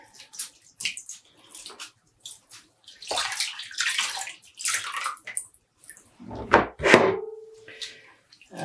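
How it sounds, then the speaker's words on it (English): Dyed yarn is squeezed by hand, not wrung, and water splatters and drips in scattered bursts. Quieter handling noises fall between them, and a louder pour-like gush comes near the end. "I'm not wringing it, I'm just squeezing out the water."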